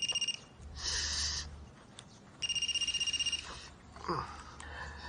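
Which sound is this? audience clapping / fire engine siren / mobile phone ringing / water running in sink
mobile phone ringing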